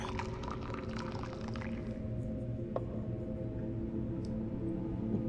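Coffee poured from a pot into a cup in the survival horror game The Evil Within 2, a soft, steady liquid trickle running for several seconds, fairly faint under a low ambient hum, with no talking.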